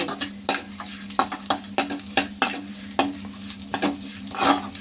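Prawn heads frying in hot oil give a continuous close sizzle, punctuated by repeated sharp scrapes and clacks of a utensil stirring the pan at an irregular rhythm.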